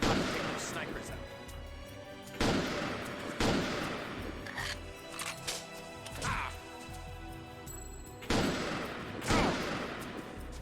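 Gunfire at snipers in the video game Second Sight comes as loud sharp shots and crashing blasts at irregular intervals, with voices talking between them.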